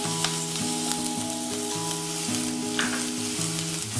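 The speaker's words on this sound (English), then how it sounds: "After heating oil, add the sliced onion pieces." Sliced onion pieces hit heated oil while cooking coriander chicken, giving a steady, close sizzle and crackle that holds at an even level with a faint tonal hum underneath and no talking.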